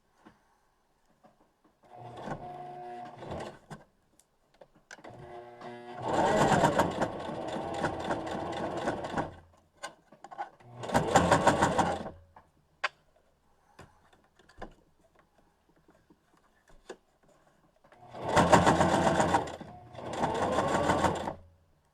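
A sewing machine back stitching a fabric mask, several separate bursts of fast, close stitching, some short and some longer, with near-silent pauses and small clicks between them.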